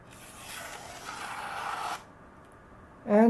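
A freshly freehand-sharpened Yoshikane 180mm petty knife in SKD-11 (D2) steel at 64 HRC slices slowly across the grain, giving a steady, close, dry scraping rasp for about two seconds. A brief voice follows at the end.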